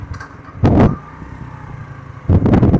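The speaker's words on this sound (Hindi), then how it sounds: "सामने कोई गाड़ी आती है।" Vehicles pass on a dark highway at night, each one swelling into a loud, close rush and then fading, with two distinct passes and a quieter engine hum between them.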